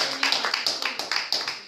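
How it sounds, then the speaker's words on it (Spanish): A church congregation giving a brief round of applause during a worship service, with a quick run of sharp claps at a steady beat, moderately close, and no talk over it. "Démosle un fuerte aplauso al Rey de Reyes."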